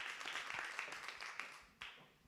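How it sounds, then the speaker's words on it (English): Warm audience applause at an award ceremony, a faint, steady patter of many hands clapping that fades gradually across the short stretch. "warm applause for Fadim Ramshe."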